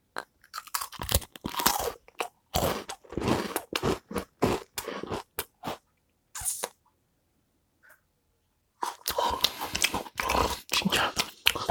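Father and son bite into butter-coconut biscuits and sandwich cookies after the sauna, giving loud, close crunchy chewing in repeated bursts with a short quiet pause partway through.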